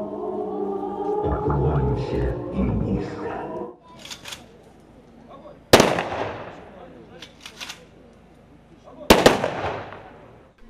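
Rifle volleys of a triple salute at an outdoor memorial rally ring out as sharp, loud single bangs a few seconds apart, each with a decaying echo, after a stretch of amplified sound and crowd noise.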